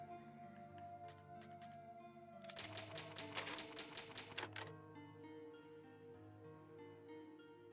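Rapid mechanical typewriter clacks from the save point in the video game Resident Evil HD: a few isolated taps, then a dense burst of keystrokes, over a quiet, low, steady musical background.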